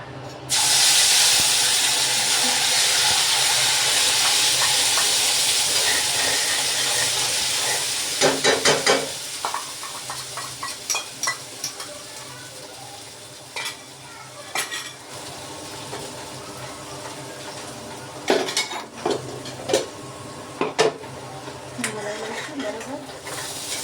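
A paste of sautéed tomato, chili and onion goes into a hot pan for paneer tikka masala, first as a loud sizzling hiss that fades, then the spoon clinks and scrapes against the pan during stirring.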